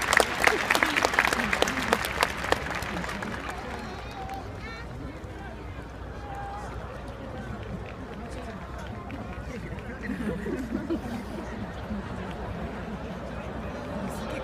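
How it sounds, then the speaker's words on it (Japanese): Applause from an audience at a post-match trophy and prize presentation for a football player, loud clapping in the first few seconds then fading into a low, steady crowd murmur. "丹羽大輝選手に今一度大きな拍手をお願いいたします"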